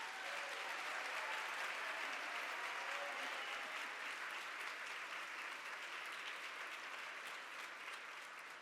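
An audience at an awards gala applauds in a steady, dense wash of clapping that holds throughout, fairly distant and easing slightly toward the end, with no talking.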